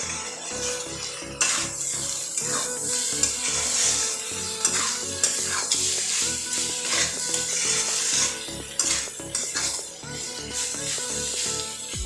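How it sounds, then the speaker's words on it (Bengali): Cabbage tossed with garam masala for a Bengali cabbage ghonto is stirred in a hot pan, a spatula scraping and clinking against the metal over a continuous soft sizzle, with steady strokes up close and a low musical hum behind. "দিয়ে এবার আবারও ভালো করে মিশিয়ে দিচ্ছি।"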